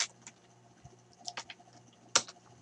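Sparse keystrokes on a computer keyboard during folder creation, a few scattered clicks and a short burst of taps with quiet pauses between, close and fairly soft.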